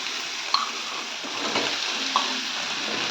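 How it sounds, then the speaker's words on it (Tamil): Chopped ridge gourd sautéing in a pan with softened onion and tomato: a faint, even sizzle with two small sharp clicks from a utensil, and no voices. "நம்ம இப்போ இதில் காய் போட்டு வதக்கலாம்."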